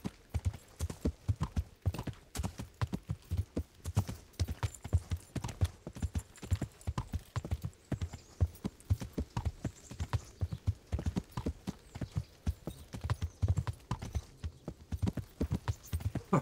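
Horse hooves clip-clop in a steady, brisk rhythm in a video game, fairly close and even, with no talk over the repeated beats.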